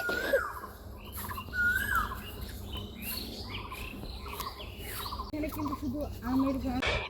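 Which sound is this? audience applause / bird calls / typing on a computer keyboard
bird calls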